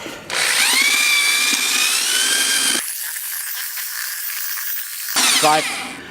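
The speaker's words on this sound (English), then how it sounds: "Now for the drill and the mixer." A power drill with a paddle mixer whines loudly as it spins, then its pitch drops and it runs with a gritty churning sound mixing tile mortar in a bucket before revving up again briefly.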